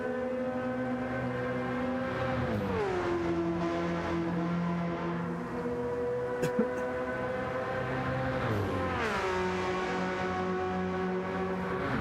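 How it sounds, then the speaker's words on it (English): Race car engines in the iRacing sim scream loudly and steadily, the pitch dropping sharply on downshifts and braking before climbing again, alone without talk. "Love the sound. These racing cars."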